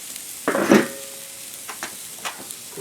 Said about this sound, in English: We're going to get a good sear on them guys, y'all.